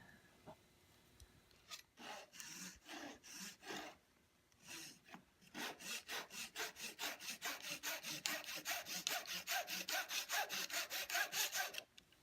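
A hand saw cuts a miter in wooden trim for a Chippendale chimney piece: a few hesitant strokes first, then a steady run of quick, even back-and-forth rasping strokes, close and clear with no talk.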